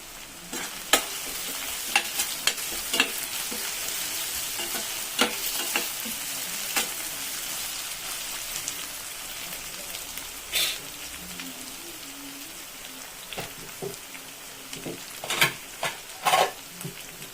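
Egg curry masala sautéed in a pan sizzles continuously up close, with sharp spatula knocks and scrapes recurring throughout. No voices are present.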